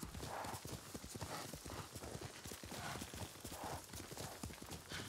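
Horse hooves galloping in the Ghost of Tsushima video game, a steady rapid clip-clop rhythm up close, with occasional whinnies over a continuous game soundscape.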